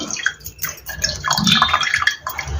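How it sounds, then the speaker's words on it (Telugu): Water drains and drips from blended ridge gourd peel as it is strained, a close, uneven splashing and trickling that rises and falls in irregular pulses. "మిక్సీ పట్టిన బీరపట్టుని ఇలాగా స్ట్రైన్ చేసుకోవాలన్నమాట"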